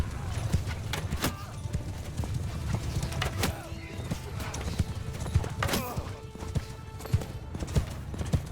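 Horse hooves clip-clop steadily in the Bannerlord video game, a dense, continuous patter of many mounted riders amid battle noise, with no talking.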